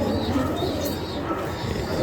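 Breeding pigeons in a loft setup in Nashik coo steadily and softly amid a dense, busy backdrop of other birds and faint room noise.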